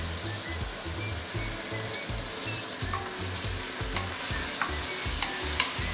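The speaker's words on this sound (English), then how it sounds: "So we want to saute this until my tomato started to dissolve." Fresh ingredients with curry leaves and tomato sautéing for a prawn curry: a loud, continuous close sizzle with rhythmic stirring scrapes and clacks against the pan, no voices.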